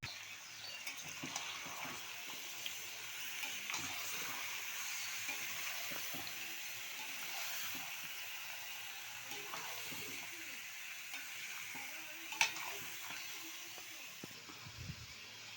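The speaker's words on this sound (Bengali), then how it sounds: "খাসির মাংসগুলো আমি সব এই তেলের মধ্যে, ফোড়নের মধ্যেই আমি দিয়ে দেবো, দিয়ে ভালো করে কষে নেব তেল দিয়ে।" Mutton pieces sautéing in hot oil with whole tempering spices, a steady soft sizzle with occasional stirring scrapes, fairly quiet and close, no voices.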